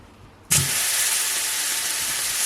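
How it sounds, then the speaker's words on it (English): A steak hits hot oil in a frying pan, bursting into a loud, steady sizzle that starts abruptly and holds a bright hiss without letting up. "Oil is nice and hot. Let's just chuck that steak on."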